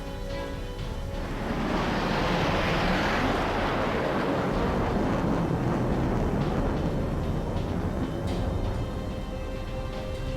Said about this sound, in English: Wonder Woman flies her plane in for a closer look.